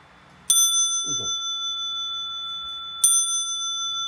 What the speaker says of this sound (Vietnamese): bộ máy rất là đẹp đấy các bạn này đánh chuông chén và chén chuông treo đấy